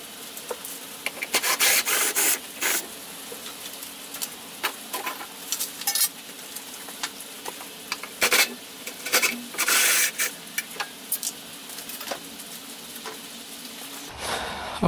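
Fuel tank clamps come undone under a 2005 Chrysler Grand Voyager, with repeated close metallic rasping and ratcheting bursts that stop and start across a long stretch, no talking.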